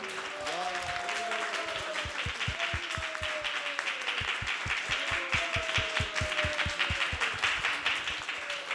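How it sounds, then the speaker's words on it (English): Rhythmic group clapping at a temple planning meeting, steady evenly spaced claps in unison under singing voices for the whole stretch. "So we can just give one round of applause to all the Sankirtan leaders who presented today."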